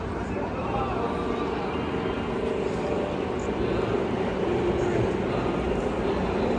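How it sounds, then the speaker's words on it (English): A steady low mechanical rumble and rattle of a roller coaster train climbing the lift hill at Six Flags Magic Mountain, continuous and fairly distant, with crowd murmur and people talking faintly underneath. "it sounds like the train is going up"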